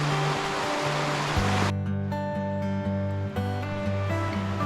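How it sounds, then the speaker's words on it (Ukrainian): Mountain river flowing in a rocky valley, a broad continuous rush of water, steady and moderately loud, with a brief change in texture partway through and no voices. "річка протікає."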